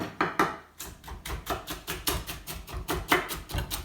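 A knife chops artichoke into very thin slices in a kitchen, making a steady series of sharp, close cutting taps at a quick, even rhythm on a board, with no voices.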